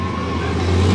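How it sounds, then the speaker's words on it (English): Racing truck engine on a dirt track, a loud, close, continuous roar that builds slightly as the truck picks up pace. "Now back behind the wheel of the Black Stallion. The truck looks good, picking up the pace"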